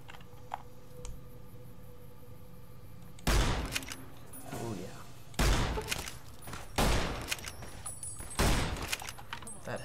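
Gunshots in Fallout: New Vegas, four sharp, separate reports spaced a second or two apart over a quiet background of faint clicks and hum.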